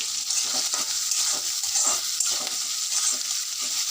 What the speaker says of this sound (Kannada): ಚೆನ್ನಾಗಿ ಹುರಿಯೋಣ.